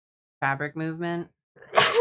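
A person gives one sharp, close sneeze right after a short burst of speech, the sneeze loud and breathy at the end.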